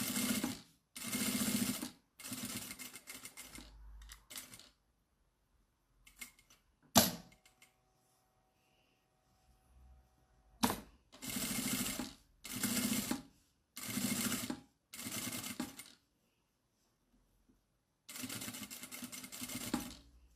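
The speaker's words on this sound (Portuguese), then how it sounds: "Vou aqui aumentar para ponto 3 outra vez e vamos costurar aqui a nossa peça." A sewing machine stitches fabric at stitch length 3 for a bag, running in short loud bursts of a second or two, separated by quiet pauses and a few clicks, heard close with no talking.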